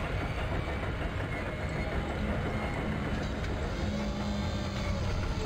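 A tram rumbles steadily along its track in the video game Dead Space Demake, a constant low mechanical roar and rattle with no talking.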